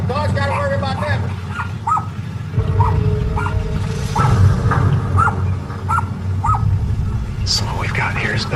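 Small dogs yap in short repeated barks, near and fairly loud, over a steady low hum and outdoor background in a residential area where a crocodile lurks nearby; people talk in the background.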